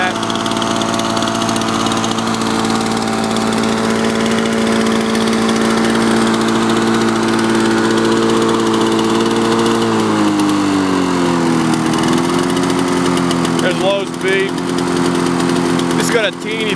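Cold Lawn-Boy lawn mower engine idling steadily and loud throughout, holding an even drone with a slight dip in speed partway through, with brief sharper noises near the end.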